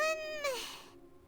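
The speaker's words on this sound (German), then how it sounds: "Eine Katze." A single clear, close cat meow with a falling tone from a character in the Genshin Impact video game, heard alone and fading into quiet.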